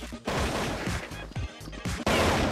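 Several sharp, loud gunshot blasts from the video game Counter-Strike 1.6 fire in quick succession, with a burst of crashing impacts near the end.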